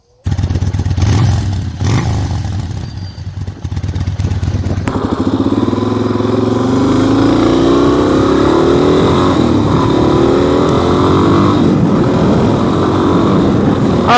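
A Suzuki DR-Z dual-sport motorcycle being ridden, its engine droning steadily and close up with wind rush, after a few seconds of handling clatter and thumps before the ride starts.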